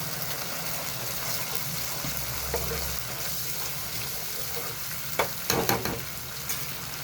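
Water poured into a pan of sizzling paneer curry, a close, steady frying hiss with a brief splash and a few sharper crackles and stirring knocks toward the end, with no talk.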